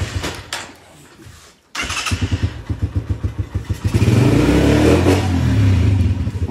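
A cold motorcycle engine sputters briefly, cuts out, then fires up and revs in quick repeated bursts before rising to a louder sustained roar close by.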